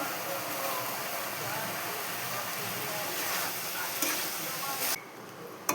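Rice being stir-fried in a hot pan with salt, a steady close sizzle and scraping stir running throughout, the sound dropping sharply near the end before a final clink.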